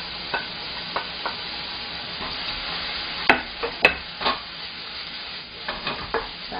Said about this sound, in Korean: 자, 해산새우 볶으시고